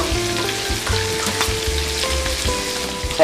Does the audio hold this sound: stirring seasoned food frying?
yes